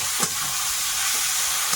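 Onion, garlic and ginger frying in a pan, a close, loud continuous sizzle with a couple of brief stirring scrapes, and no voices.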